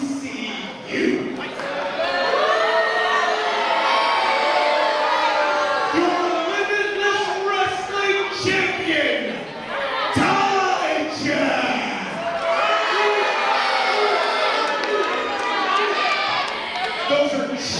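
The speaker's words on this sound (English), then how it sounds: "Those are cheers. That's how stupid people cheer." Crowd at a sold-out Limitless Wrestling show cheers and shouts continuously, a loud, dense roar of voices with chants rising and falling throughout.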